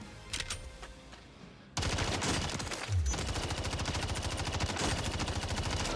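Sustained rapid automatic fire from a Renetti pistol in a shooting video game, a steady loud stream of shots running from about two seconds to the end after a quieter opening.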